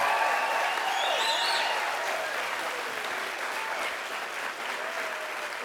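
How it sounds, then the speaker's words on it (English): A large crowd at a 2019 charter school graduation ceremony fills the room with sustained applause and cheering, loud and continuous with whistles rising above it, gradually easing toward the end. "let's give a loud cheer for the first graduating class of Tapestry Public Charter School"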